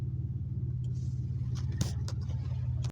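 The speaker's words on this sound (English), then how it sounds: "This car sped behind me, right here." A car on a multi-lane road gives a steady, close engine and tyre rumble with a low droning hum that holds at an even level for the whole stretch, with no distinct surge of acceleration standing out.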